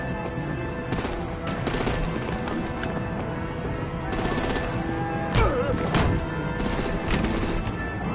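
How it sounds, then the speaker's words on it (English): Artillery and gunfire in the Telltale video game Batman: The Enemy Within: repeated sharp shots and bursts crack through a dense, steady wash of battle noise, fairly loud and close throughout. "Break out the artillery and disable their vehicles!"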